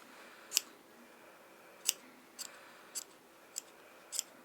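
Scissors trim a chunky yarn pom-pom in a quiet room, six crisp, close snips spaced about half a second to a second apart, with no talking.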